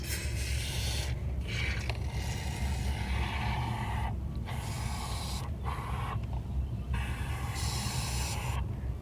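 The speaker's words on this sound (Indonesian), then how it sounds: "Kemudian semprot sampai penuh." Aerosol cleaner hisses in long continuous bursts as it is sprayed into a car's AC evaporator beneath the glovebox, loud and close, broken by a few brief pauses between sprays.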